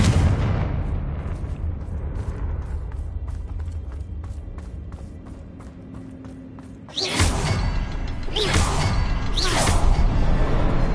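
In the game Hogwarts Legacy, a Confringo fire spell goes off with rumbling, whooshing blasts, a low roiling burst that eases off and then surges back as a loud fiery explosion with repeated swooshes.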